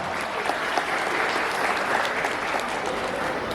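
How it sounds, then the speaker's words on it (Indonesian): An audience at a formal gathering applauds, a dense, even wash of clapping from many hands that holds steady throughout without fading. "Tepuk tangan untuk kita semua."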